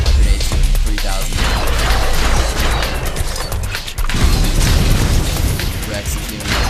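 Grenade explosions in the video game Sanctum, a dense, loud, continuous run of booms and crashes layered with game noise and rumbling, with no talking.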